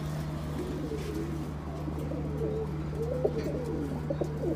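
A pair of snake-eyed Chuya Chandan lavender pigeons coo in soft, repeated low rolls, close by over a steady electrical hum, with no talking.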